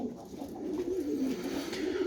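A black Vantabilek pigeon in a coop coos close by, a soft low warbling call rising and falling continuously over quiet background noise.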